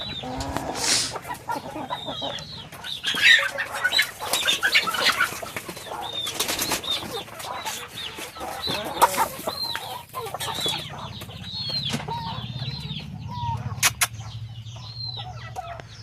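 Medak breed chickens in Telangana cluck and call steadily throughout, with bursts of wing flapping and rooster-like calls over a busy, close-up farmyard background.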